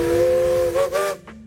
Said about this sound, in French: le Case 150 chevaux vapeur tracteur